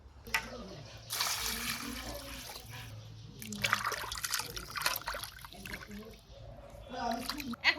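Raw goat meat being washed by hand in water, with splashing and trickling bursts in uneven clusters, close and moderately loud, and brief voices in the background.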